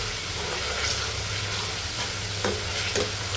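Garlic sizzles in hot oil with beef skin, meat and spices as a utensil stirs the pan, a constant loud frying hiss broken by a few sharp scraping clinks.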